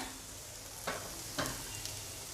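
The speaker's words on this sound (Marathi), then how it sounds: "हे बघा कुरकुरीत भेंडे फ्राय होतात" Okra (bhindi) fries crisp in a pan with a faint, steady sizzle. A couple of soft stirring scrapes cut through the hiss, and no one speaks.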